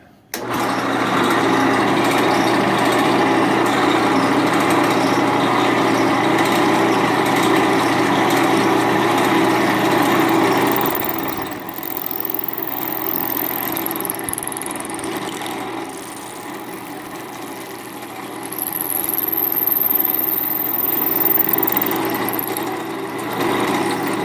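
A power drill whirs steadily for a long stretch, its pitch shifting as it bites into wood while boring for a thimble and tenon joint, with a couple of brief high squeals later on.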